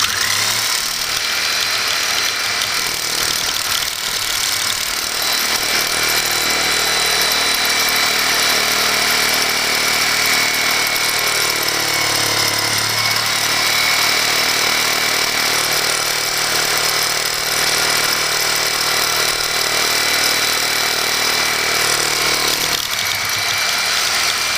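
Reciprocating saw fitted with a Lenox carbide grit blade cutting a hardened 66 HRC cobalt drill bit, a continuous loud buzzing and grinding drone that runs steadily without pause for the whole stretch, close up.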